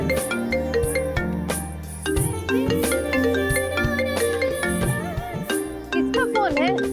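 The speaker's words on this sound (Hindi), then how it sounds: "फोन काहे नहीं उठाती? कब से टर बजे जा रहा है।" A mobile phone plays a bright, melodic ringtone over and over at close range, a busy tune of repeating notes ringing without a break and no voices over it.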